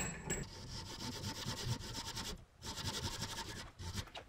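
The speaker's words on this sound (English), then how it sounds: "Establish the center line on the top with a cut." A blade saws a centre line into the top of a small wooden lure blank, with quick rhythmic rasping strokes up close, a short pause midway, then more strokes.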